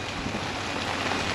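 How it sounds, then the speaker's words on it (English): Rain falls steadily on a campsite in the Florida Keys, a dense, even hiss of drops pattering on surfaces, fairly soft and unbroken throughout. "And it's raining to beat the band."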